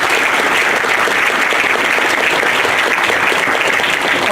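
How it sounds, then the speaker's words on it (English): Loud, sustained applause from a large symposium audience thanking a plenary panel, a thick uniform wash of many hands clapping close and continuous throughout. "Should we give them a round of applause?"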